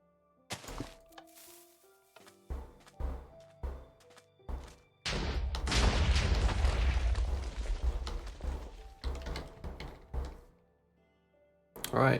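Minecraft TNT blocks detonating: a string of separate sharp booms and thuds, then a long rumbling burst of chained explosions, with a final blast after a short pause.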